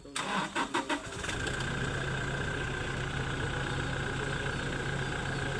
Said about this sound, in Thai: ติดเครื่องทุกคันเลย ติดแล้วก็ดับเครื่องแล้วก็มาติดคันใหม่